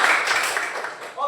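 A brief burst of classroom applause, dense and close, fades over about a second before a voice cuts in at the end.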